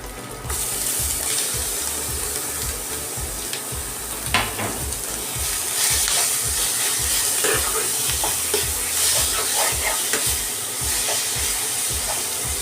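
Loud, steady sizzling of onion, ginger and garlic frying in a pan, with rhythmic stirring scrapes and occasional clatters, no talking.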